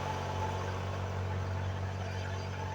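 A new tractor's low engine drones steadily at an idle, a constant hum without change for a few seconds.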